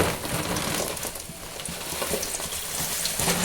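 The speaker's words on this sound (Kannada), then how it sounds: "1 ಸ್ಪೂನಷ್ಟು ಆಯಿಲ್ ಹಾಕಿದ್ದೀನಿ. ಇದಕ್ಕೆ ಮೆಣಸಿನ್ಕಾಯಿ ಹಾಕ್ತಾಯಿದ್ದೀನಿ. ಫಸ್ಟು ಗುಂಟೂರು ಮೆಣಸಿನ್ಕಾಯಿ ಹಾಕ್ತಾಯಿದ್ದೀನಿ." Guntur dried red chillies fry in a spoonful of oil in a small pan, a close, continuous crackling sizzle throughout.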